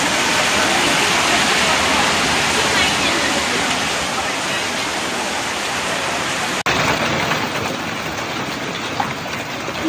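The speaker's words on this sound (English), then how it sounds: "So this was a giant hailstorm" A giant hailstorm in China pounds down in a dense, continuous roar of hail, loud and steady throughout with no break.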